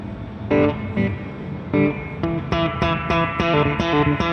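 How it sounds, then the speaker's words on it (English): Electric guitar through a Gamechanger Audio Light Pedal spring reverb, strummed chords and picked notes ringing with a splashy, lingering tail, set against background chatter on a busy NAMM 2020 trade-show floor. "So now I can always add the classic spring reverb to it."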